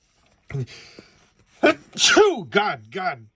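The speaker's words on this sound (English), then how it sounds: "now I got to sneeze" A single sharp sneeze bursts out after a few sniffly breaths, followed by a couple of short voiced exhales, close and fairly loud.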